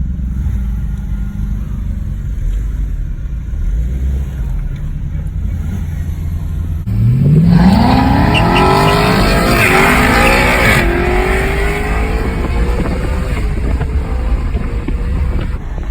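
A Ford Mustang GT and a Dodge Challenger drag race: steady engine rumble idles, then loud revving launches with rising engine pitch and tire squeal, roaring on through upshifts.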